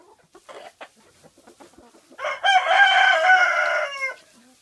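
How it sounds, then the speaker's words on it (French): A few soft clucks, then a rooster crows once, loud and close, in a long drawn-out call. "Ça, c'est mon beau coq Blue Boy."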